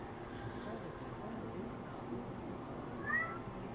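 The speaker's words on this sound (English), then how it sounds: "Oh, shut up, cat." A cat in heat gives a short, rising meow near the end, fairly faint and partly distant, over a steady background hum with a voice talking quietly underneath.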